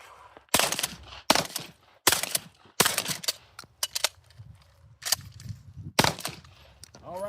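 A shotgun fires Federal 1-ounce slugs through a full tube, with about seven loud, sharp blasts spaced roughly a second apart. Mechanical clacks of the action come between shots, and no one speaks.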